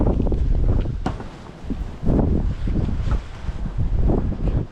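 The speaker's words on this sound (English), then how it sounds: "Dang, it is breezy." Wind buffets a microphone outdoors on open water during a bass fishing trip, a loud continuous rumbling gust noise that surges and eases in waves.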